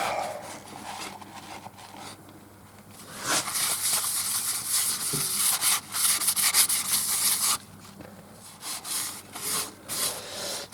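Wood wax being rubbed by hand into the inside of a wooden bowl, giving a dry scratchy friction that comes in uneven bursts, louder and busier through the middle, then quieter strokes.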